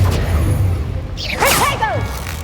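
An Incendio fire spell is cast in Hogwarts Legacy, a quick swooshing burst with crackling, warbling magical tones that flare up and fade within a second over a low game background hum.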